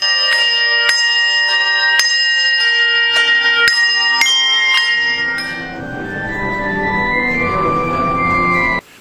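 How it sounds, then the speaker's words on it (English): Church handbell choir rings out in a bright sequence of clear, struck tones, then blends into a sustained shimmering chord that rings on before cutting off. "From the voices of a glorious choir to the music of the gifted bell choir."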